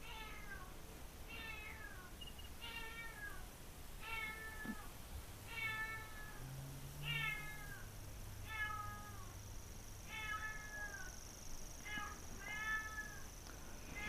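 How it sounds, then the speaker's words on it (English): Cats in heat meowing over and over in a rainy hunting-game scene, a steady series of drawn-out, wavering yowls repeating every second or so above a constant hiss of rain, with no talking. "Cats on the heat, won't shut up."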